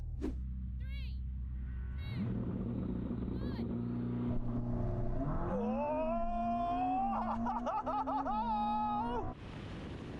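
Ferrari SF90 and Porsche 911 Turbo S launching side by side in a drag race, a loud engine roar whose pitch climbs steadily through gear changes with people talking under it, until the noise cuts off near the end.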